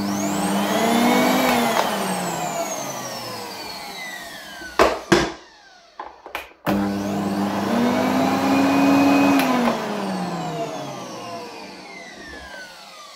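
A Philips FC8381 vacuum cleaner with weak suction runs with a steady loud motor drone that rises in pitch. It cuts out briefly with a few knocks partway through, then starts up again and keeps droning alone.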